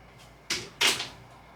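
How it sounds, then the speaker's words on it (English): A door being closed indoors, two quick close swishing thumps a fraction of a second apart, the second louder, against a quiet room. "I'm gonna close my door"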